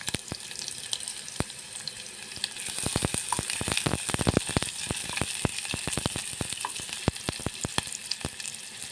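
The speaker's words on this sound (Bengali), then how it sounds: "পেঁয়াজটা ভেজে নেব প্রথমে।" Chopped onions frying in oil in a pot for one-pot Maggi noodles, a steady sizzle with quick crackling pops that grows denser partway through, close and fairly loud with no voices.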